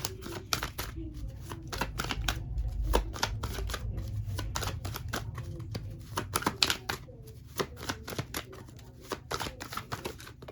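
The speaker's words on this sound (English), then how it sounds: "It's just hard to shuffle it because there's so many different types of cards here." Cards are shuffled and riffled in quick, rattling bursts with soft flicks and slaps throughout, close by.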